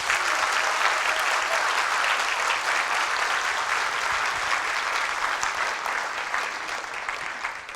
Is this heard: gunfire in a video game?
no